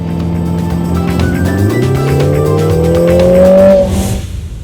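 A Lotus Emira sports car with a mid-mounted engine accelerates hard and loud from close by. The engine note climbs steadily in pitch through the gears, with a brief dip at a shift, then cuts off abruptly near the end.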